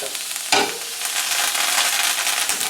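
Beef tenderloin sears in a hot pan with butter and thyme, giving a loud, continuous crackling sizzle with a sharp burst early on as something hits the fat, heard alone.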